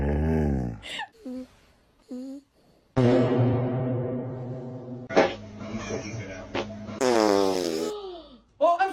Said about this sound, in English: Did you just get scared of your own fart?